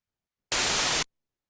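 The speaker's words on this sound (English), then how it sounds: "we're going to make sure that it is a white noise" Synthesized white noise for a drum and bass top loop, pitched up to sound brighter: a single steady burst of bright, full-band hiss lasting about half a second, loud and alone, beginning and ending abruptly.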